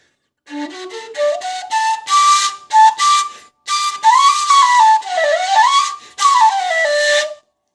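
A breathy wooden semi-chromatic floyara flute plays a sequence of clear notes, rising stepwise, then sustained tones with bends and short pauses, close and solo.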